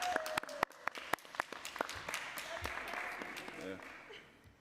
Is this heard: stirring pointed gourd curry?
no